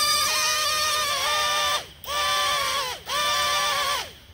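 The motors of a cheap toy drone flying in its more powerful flip mode whine high and loud, rising and falling in three long sustained bursts with brief dips between them.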